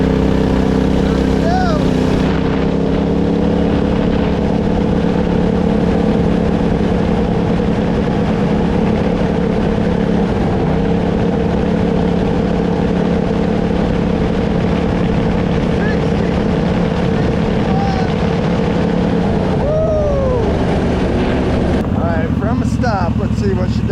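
A 999cc V-twin engine in a CVT vehicle runs loud and steady throughout, a continuous droning roar with slight shifts in pitch toward the end.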